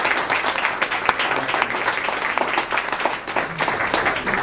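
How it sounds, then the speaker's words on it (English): Steady, dense applause from an audience honoring students and families at a Student of the Month ceremony, sustained and fairly loud throughout with no talking over it. "let's give all of our students and families one more round of applause."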